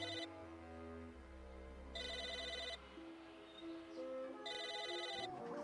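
A telephone rings in the Psychonauts video game, with three bright electronic ring bursts spaced a couple of seconds apart over soft game music, no talking.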